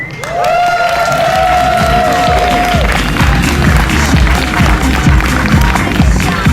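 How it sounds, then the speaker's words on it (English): A large audience at a fursuit exhibition claps and cheers loudly and continuously, with a voice calling out over the start and dense applause filling the hall throughout. "Let's hear a large round of applause"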